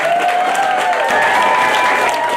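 Clapping for a young reader at a fifth-grade poetry slam rings out loud and steady from a school audience. A whistle or cheer slides through the continuous applause.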